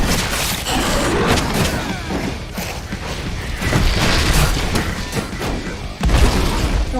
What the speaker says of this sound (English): Explosions going off here?